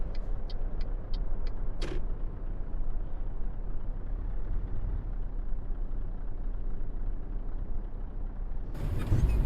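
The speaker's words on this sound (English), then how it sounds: "everybody hears just the sound of his truck and the engine, like we're hearing now" Truck engine in Euro Truck Simulator 2 droning steadily at a low pitch, with a few faint clicks near the start and a louder burst of noise at the end.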